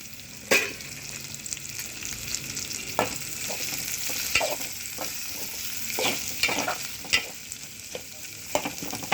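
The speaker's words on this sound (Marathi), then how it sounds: "कांदा लाल होईपर्यंत फ्राय करायचा आहे" Onions sizzle steadily in hot oil with garlic and curry leaves, punctuated by sharp scraping clicks of a spatula stirring the pan at irregular intervals.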